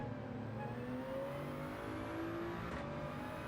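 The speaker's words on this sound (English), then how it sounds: "Probably killing myself with loud engine noises" Race car engine in a racing video game at the Red Bull Ring, holding a steady high whine with rising and falling revs as the gears shift, loud and alone with no talk over it.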